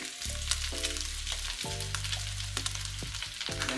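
Steady sizzling and crackling of holy basil leaves frying in a hot pan, with bursts of spattering oil and a low hum underneath.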